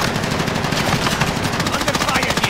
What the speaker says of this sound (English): Under fire. Under fire.